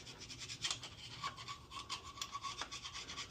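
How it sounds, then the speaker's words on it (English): A hand scraper rasps against old parts during an exhaust install on a 1984 Chevy square-body truck, giving a steady, fairly quiet series of repeated scraping strokes with no talking. "Connor's just scraping them off with the scraper that Tony got us."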